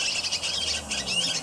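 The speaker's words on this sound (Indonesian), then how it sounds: "Mantep nih Bang Supri dapat burung sogok kontong." A small sogok kontong bird gives bright, high chirps in quick succession during small-bird trapping, close and clear over quiet background with no speech.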